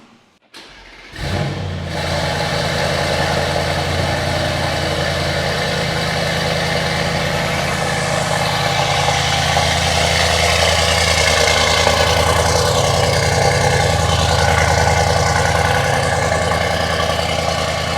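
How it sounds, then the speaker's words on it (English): A Mercedes E63s with downpipes and decat fires up from cold after a brief crank, then settles into a loud, steady, deep high idle that holds evenly for over fifteen seconds, close to the car. "I'm going to start the car up now for the first time. Let's see how it sounds. It'll be a cold start as well."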